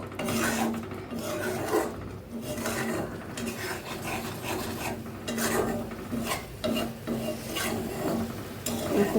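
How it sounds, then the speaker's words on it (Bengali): Spice masala with Kashmiri red chilli powder being stirred and fried in a pan for an aloo potol paneer curry, continuous scraping and rasping of a spatula with a soft sizzle underneath, close and steady. "এখন এই মশলাটা ভালো করে কষিয়ে নেব।"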